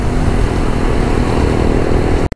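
A group of Jawa motorcycles riding offroad together, a loud, continuous engine roar from several bikes close by that holds steady before cutting off abruptly at the end.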